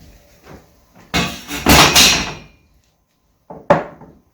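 A few wooden knocks and thumps as staves of a wine barrel are tapped loose, a cluster of close, resonant blows followed by a pause and one more short pair.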